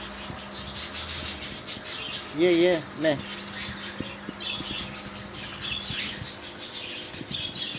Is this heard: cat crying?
no